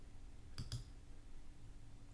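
Two quick clicks close together, from mouse and keyboard shortcuts in Logic Pro on a computer, sharp and near against a quiet room hum, then silence.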